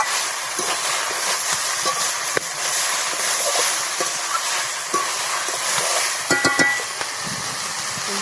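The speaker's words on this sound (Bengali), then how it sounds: "চচ্চড়িটা ভাজা হয়ে গেছে, এর মধ্যে আমি লবণ দিয়ে দেবো স্বাদ মতো, দিয়ে আরেক সাথে আমি নাড়িয়ে নেবো" Chachchari vegetables frying in a pan, a steady loud hiss and sizzle with faint scraping of a spatula as they are stirred, close and continuous, no speech.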